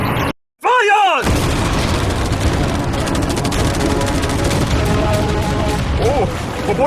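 A dense, continuous barrage of machine gun fire and catapult launches fires all at once, loud and close, with rapid overlapping shots after a short silent break at the start.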